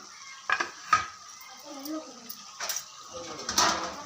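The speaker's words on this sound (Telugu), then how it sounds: "ఎల్లిపాయ కారం అయితే వేసేసుకొని మొత్తం ఒకసారి బాగా కలిపేసుకోవాలి" Chicken pieces are stirred with garlic chili powder in a pan, the spatula giving a few scattered metallic scrapes and clinks against the pan, fairly quiet and without talk.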